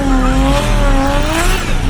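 A car drifting in circles with its tires squealing, a loud continuous screech that wavers in pitch over a constant engine roar, close up and with no voices.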